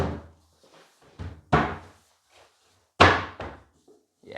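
Workbench frame sides being knocked into place, a few sharp heavy wooden thuds spaced apart with quiet gaps between them, the loudest near the middle.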